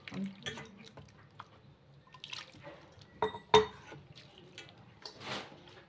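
Grated potato being rinsed in water in a kitchen, with light splashes and drips and a clink of a bowl, soft and intermittent.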